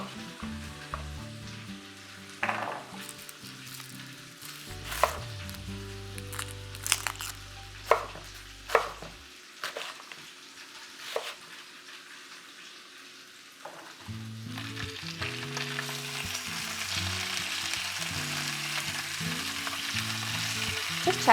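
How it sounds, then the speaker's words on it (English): Oxtail pieces brown in a hot pan with a steady sizzle and frying crackle, broken by several sharp knocks and scrapes as they are turned, the sizzle swelling louder and hissier toward the end. "make sure that they're browning, and rotate so all sides are evenly browned"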